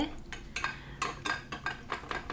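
Spoon stirring homemade sour cream with dried dill in a bowl, a quick series of soft scraping clinks in an irregular rhythm, close and fairly quiet.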